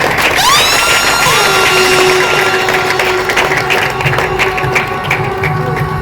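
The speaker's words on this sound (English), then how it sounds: "Let's applaud." A school crowd at a reading quiz launch at Ave Maria School cheers and claps loudly and continuously, with sustained whistling or horn-like tones sliding over the noisy clapping.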